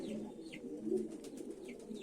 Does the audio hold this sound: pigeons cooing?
yes